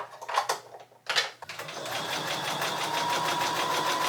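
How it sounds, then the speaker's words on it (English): A sewing machine that needs oil starts up after a couple of brief clattering bursts, then runs steadily with a continuous whirring, rattling hum, close by and moderately quiet, with no talking. "My machine is sounding a little bit dry, so I'm going to try to give it some oil and see if that fixes that noise."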